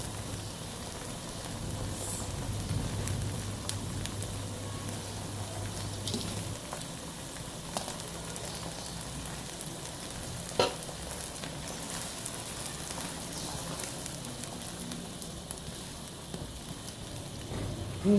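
Boiled chana dal being stirred into kulfa saag in a pot, a steady soft sizzle running throughout with occasional scraping clinks, close and fairly quiet, no talking.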